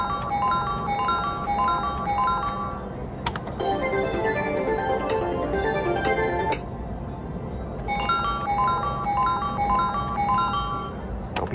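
A Triple Stars slot machine spins with bright chiming electronic jingles in repeated bursts, each run of tones broken by short pauses and clicks, loud and close, with no talking.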